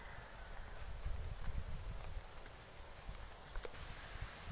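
Horse walking on a rough country road, hooves clip-clopping in an irregular plodding rhythm, faint and close, over light rustling and outdoor background noise.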